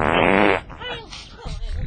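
A cartoon fart blares loud and alone for about half a second, then gives way to a short rattling, sputtering tail.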